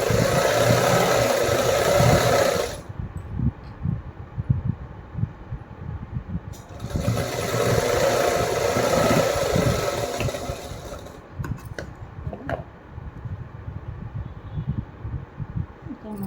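A sewing machine stitches fabric with a steady mechanical whirring hum in two long runs, stopping and restarting, while someone speaks nearby in the pauses.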